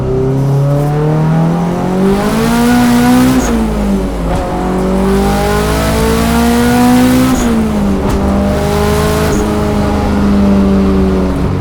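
A Toyota AE86 with a broken exhaust accelerates hard onto a freeway at night, its loud raspy engine climbing through the revs with gear shifts and dips before pulling again, heard up close from inside the car with no talking.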